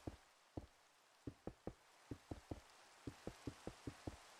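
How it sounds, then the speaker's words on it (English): Rain falls in the Minecraft video game as a soft, steady hiss, with a series of sharp, irregular clicking knocks on top at roughly half-second intervals. "I can't really get rid of the rain, so enjoy the compression."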